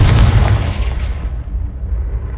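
A Confringo blasting spell goes off in the video game Hogwarts Legacy, one loud, close boom with a heavy low-end burst that rolls off into a decaying rumble.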